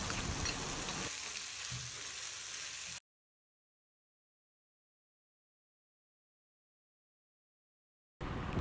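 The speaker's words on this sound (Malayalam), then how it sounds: "എന്നിട്ട് ആ എണ്ണയിലേക്ക് നമ്മൾ രണ്ട് സവാള ചെറുതായിട്ട് കട്ട് ചെയ്തതും കുറച്ച് ഉപ്പും കൂടി ചേർത്തിട്ട് നന്നായിട്ടൊന്ന് വഴറ്റി കൊടുക്കണം" Chopped onions with salt fry in hot oil, a dense close sizzle for about three seconds, then sudden silence before the frying hiss returns briefly at the end.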